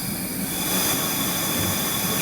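An MBTA commuter train in Train Sim World 2 slows toward a speed limit, giving a loud, steady rumble of rolling wheels and rail noise with high squealing tones on top, alone without talk.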